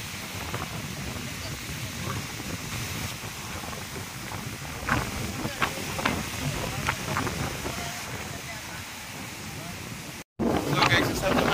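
Steady wind rushes and hisses across the microphone outdoors at the seaside on Boracay, with faint background voices and a brief dropout near the end.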